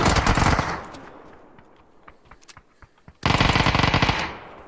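Automatic gunfire in the battle royale game PUBG, loud rapid bursts at the start and end with scattered sharp shots in the quieter middle.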